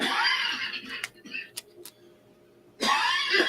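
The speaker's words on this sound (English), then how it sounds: "Sorry if you hear that coughing in the background." A person coughing and clearing their throat nearby, harsh bursts at the start and again at the end with a few short sharp sounds and quiet between.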